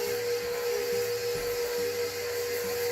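A stand mixer runs on low speed, beating butter, sugar and bananas for banana cookies, giving off a steady, close, continuous motor whir and hum that holds unbroken throughout.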